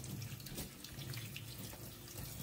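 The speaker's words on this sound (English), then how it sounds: "I'll just wash these" Running tap water pours steadily over food being washed in a kitchen sink, a continuous close splashing rush with no talk, while Ghanaian ampesie is being prepared.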